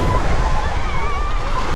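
Ocean surf at a crowded Misquamicut beach with seaweed in the water, a steady broad wash of waves and wind rumble close to the microphone, no talking.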